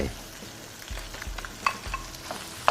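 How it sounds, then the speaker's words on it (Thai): Rice being stir-fried with canned fish in a pan, a soft scraping and stirring sizzle with a few sharper clinks of the utensil against the pan, no voices. "ผัดให้ข้าวเข้ากับส่วนผสมทั้งหมดครับ"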